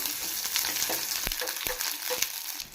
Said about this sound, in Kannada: ಎಣ್ಣೆ ಕಾದ ನಂತರ ನಾನಿಲ್ಲಿ ಒಂದು ಈರುಳ್ಳಿನ ಕಟ್ ಮಾಡಿ ಸೇರಿಸ್ಕೊತಾ ಇದ್ದೀನಿ ಈರುಳ್ಳಿನ ಚೆನ್ನಾಗಿ ಫ್ರೈ ಮಾಡ್ಕೋಬೇಕು